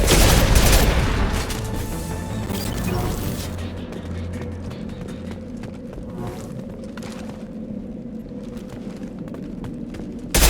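Combat in Mass Effect 2 with dense, sustained gunfire and explosive booms, loudest and busiest in the opening seconds, then a steady rattle of shots and battle noise carrying on to the end.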